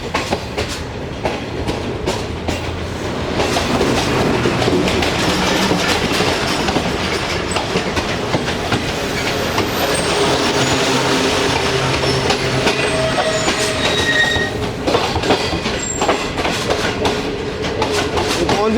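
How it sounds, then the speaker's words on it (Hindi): A passenger train approaches and rolls past on the tracks in Pakistan, with steady clickety-clack of wheels and rising rumble that stays loud and close through most of the pass, under cloudy weather. "6411 के साथ एक ट्रेन अप्रोच बना रही है जी"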